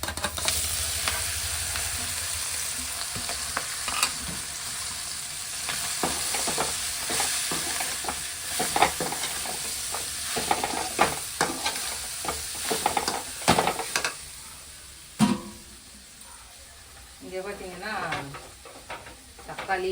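Spinach frying in a pan with chili powder and onions, stirred over and over, giving a steady close sizzle with scraping clatter from the utensil and a few sharper knocks toward the end.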